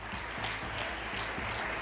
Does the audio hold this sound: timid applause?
yes